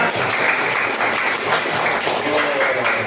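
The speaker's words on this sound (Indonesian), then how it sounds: "tepuk tangan dong bagi teman kita yang jawab" Classroom of students clapping together for a classmate who answered correctly, a steady dense patter of hands filling the room for a few seconds without talk.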